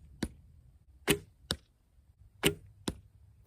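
During outdoor archery practice, arrows strike a target with five sharp, close thuds at uneven intervals over a quiet background.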